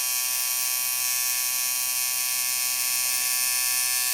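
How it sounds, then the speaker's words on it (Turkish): A tattoo machine buzzes steadily while inking skin, a close, even electric whine with a constant pitch and no pauses. "Şimdi bu şekilde daha dik tutup dövmemize devam ediyoruz."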